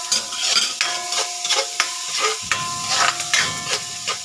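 Onions sizzle in a frying pan with golden-browned garlic, a steady hiss broken by repeated scraping stirs and utensil knocks against the pan, close and fairly loud.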